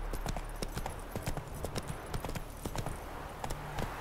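Roach, a horse in The Witcher 3, gallops in a steady rapid clip-clop of hooves at close range, loud and continuous, with faint game ambience underneath.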